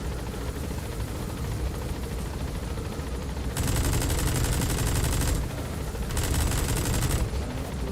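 Bursts of automatic gunfire in Metal Gear Solid 5, a steady loud rattle of rapid shots in two long volleys over a constant rumbling game backdrop.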